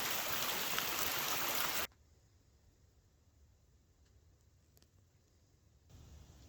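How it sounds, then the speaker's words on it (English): Runoff water pours out of a cornfield after heavy rain, a loud broad rushing wash up close that cuts off sharply to a faint background hiss, then swells slightly again at the end. "Wow, I can't believe how much water is running out of that. Water coming from the cornfield."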